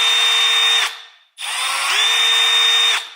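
Milwaukee M12 FUEL 1/2-inch hammer drill (2504-20) spinning in drill mode, two loud high-pitched whirring bursts close up, the second run longer and climbing to a higher speed, with a brief pause between.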